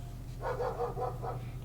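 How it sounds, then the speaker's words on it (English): A neighbor's dog barks in a quick run of four or five muffled yaps, heard at a distance through an open window over a steady low room hum. "That is not Bella. That is a neighbor's dog."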